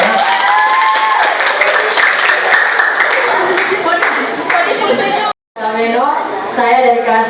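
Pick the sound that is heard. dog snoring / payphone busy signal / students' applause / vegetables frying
students' applause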